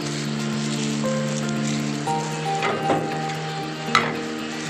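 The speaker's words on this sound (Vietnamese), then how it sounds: "Đổ đây mình trộn với gia vị nha các bạn." Spring roll filling of meat, ham and chả lụa is stirred and mixed with seasoning in a bowl, giving soft scraping and wet churning sounds with a few sharper clinks over a steady background hum.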